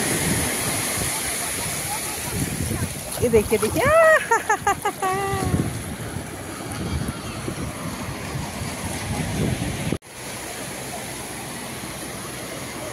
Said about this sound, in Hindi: ये है समंदर का शोर